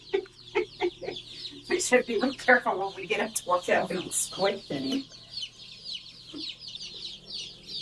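Newly arrived homestead chickens cluck and peep softly nearby as they peck at their food, short calls scattered throughout while someone talks over them.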